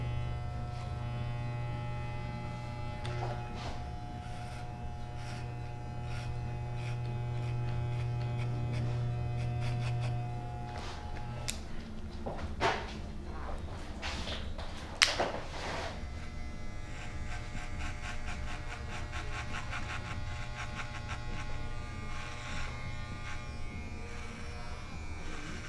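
Electric clippers buzz at close range as they trim a beard at a barbershop, a steady droning hum broken by scattered clicks and a few sharp taps, with no talking.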